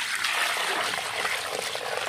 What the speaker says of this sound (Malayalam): അതിലേക്ക് നമ്മൾ കുറച്ച് വെള്ളം ഒഴിക്കുകയാണ്,